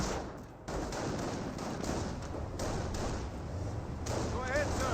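Scattered gunfire in a Company of Heroes battle, heard as soft, distant pops and muffled volleys beneath a steady wash of battlefield noise, with a voice commentating over it.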